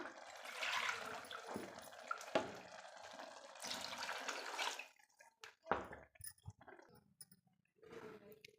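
Water splashes and pours in bursts into a cooking pot, with clinks of a vessel and brief pauses between pours, close by and fairly loud.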